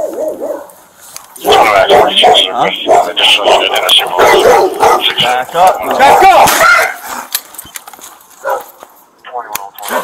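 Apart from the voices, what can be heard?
dog barking at police officer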